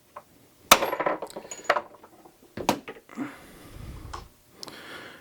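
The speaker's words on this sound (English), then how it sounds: "Take your hammer again, and it'll just go right in the socket." A hammer taps a hex bit into a 3/8-inch drive socket with a handful of sharp metallic strikes, loud and close, each ringing briefly with short pauses and rattling in between.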